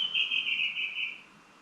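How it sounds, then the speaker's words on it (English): Birds chirp outdoors in one sustained high trilling call lasting about a second, moderately close, then fading out with no talk. "You hear them birds?"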